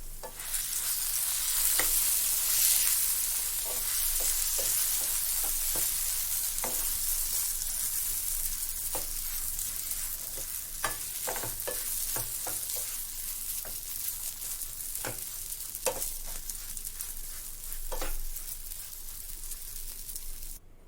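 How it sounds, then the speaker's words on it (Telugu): Tur dal chutney, its ingredients already fried in oil, is stirred in a pan, producing a soft steady sizzle broken by scattered sharp scraping clicks of the spoon against the pan. "ఇలా చట్నీ అంతా వేసుకున్నాక ఒకసారి కలుపుకుందాం."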